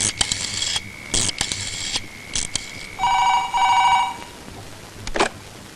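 A telephone rings in short bursts, with a mechanical clicking and a sharper electronic trill in the middle, ending in a brief loud tone; no voices.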